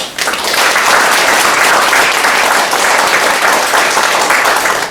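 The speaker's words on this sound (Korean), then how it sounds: "큰 박수로 목사님 맞아주시기 바랍니다." Loud, dense audience applause fills a lecture hall as a pastor is welcomed to speak on Laozi, Jesus and Muidang, a steady sustained roar of many hands throughout.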